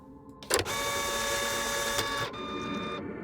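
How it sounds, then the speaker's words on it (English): A printer in the video game The Almost Gone whirs loudly and mechanically for a few seconds after a sharp start, then drops to a quieter whine before stopping. "Printer always sounds like an angry animal devouring something."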